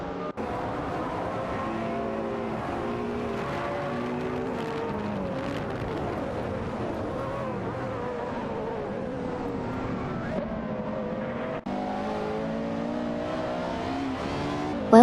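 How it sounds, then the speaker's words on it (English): AI-driven race cars roar around a track in a racing simulation, a continuous engine drone with rising and falling pitch as they pass, heard under a voice. "ready to watch some AI cars zoom by"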